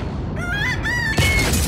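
A rooster crows close and loud, one drawn-out cock-a-doodle-doo with a rising then sustained call lasting about a second, over a rough noisy background.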